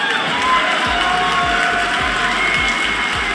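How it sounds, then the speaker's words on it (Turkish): A hall audience breaks into loud applause and cheering right after an answer about heading a government efficiency department, a dense steady roar of clapping and shouts with some thumping underneath, close and continuous throughout. "bu cevaptan sonra sizin de duyduğunuz gibi salonda alkışlar koptu"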